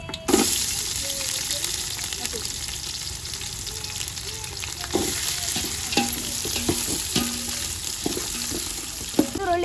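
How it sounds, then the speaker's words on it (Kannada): Green chillies frying in oil for a village-style chicken biryani, with a constant sizzle and repeated clinks and scrapes of a stirring spoon against the pan. "ಫ್ರೈ ಮಾಡ್ಕೊಬೇಕು ಎಣ್ಣೆ ಒಳಗೆ ಈಗ ಮೆಣಸಿನ್ಕಾಯಿ ಹಾಕ್ತಾ ಇದ್ದೀನಿ"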